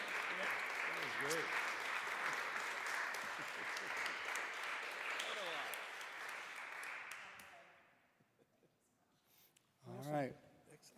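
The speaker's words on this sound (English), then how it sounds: "These guys, big round of applause." A room full of people at a history talk applauds the speakers with sustained, even clapping for several seconds, with a voice faintly over it. The applause fades out before a person speaks briefly near the end.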